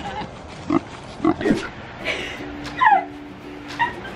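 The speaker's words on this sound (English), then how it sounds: "There's the pig, the only one that's not afraid." A pig grunts and squeals in short bursts near a backyard goat barn in a suburban yard, close by, with other animal whimpers and scuffling mixed in and a person talking intermittently.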